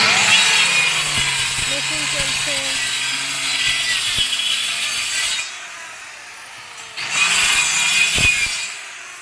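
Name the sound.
machine cutting a box for a sofa bed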